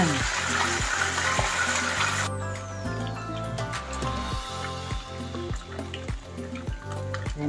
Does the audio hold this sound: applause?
no